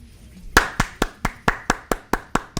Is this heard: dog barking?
no